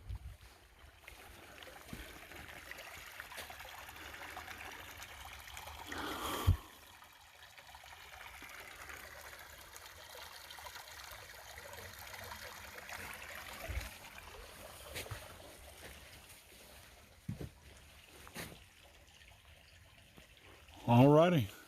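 A stream flows past a small footbridge on the Kisatchie Loop Trail, a steady close rush of water that runs through the whole stretch, broken by a few dull knocks and a louder handling bump near the end.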